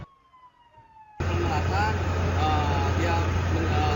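A fire truck siren wails in falling tones, moderately faint, for about a second before it cuts abruptly to loud, steady broadband noise that continues to the end.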